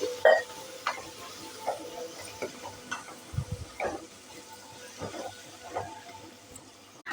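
Chilli liver fry sizzles in a pan while a spoon stirs and mixes it, with occasional scrapes and clicks against the pan over a steady frying hiss.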